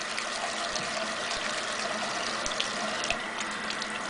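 Steady running water from a tap rinsing a makeup brush, a continuous close hiss and splash with faint irregular spatter throughout.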